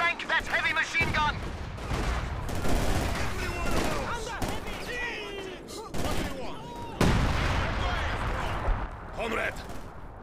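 Heavy machine gun chatter and booming artillery fire rage through a Company of Heroes 2 battle for Stalingrad, with dense bursts and blasts throughout and voices shouting over the din.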